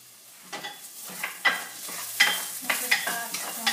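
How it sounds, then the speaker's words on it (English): Potatoes sizzling in a pot on a stove, stirred with about eight quick scraping strokes over a steady frying crackle, close and fairly quiet. "My potatoes are sizzling, so I'm going to give them a quick stir"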